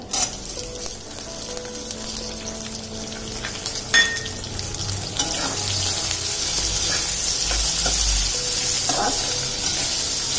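Thinly sliced onions frying on a high flame in a spicy chicken gravy preparation, a steady loud sizzle running throughout with scraping stirs and a brief clink near four seconds, growing denser in the second half.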